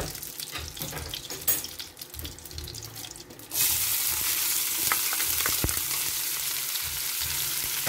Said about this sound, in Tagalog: luto natin itong ating kamatis at talong